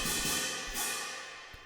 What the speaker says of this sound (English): So just wonderful orchestral sounding cymbals and gongs there.